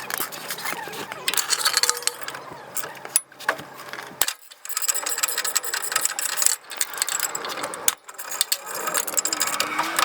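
A ratchet with a long string of extensions clicks in quick bursts while undoing exhaust bolts on the broken Y-pipe of a 1986 first-generation Toyota 4Runner with a 22RE engine, with short pauses and metallic clinks between runs.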